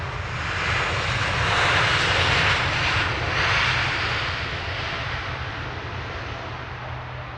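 An airliner in Abu Dhabi livery arriving at London Luton Airport, its engines a steady loud roar that swells and then slowly fades as it passes.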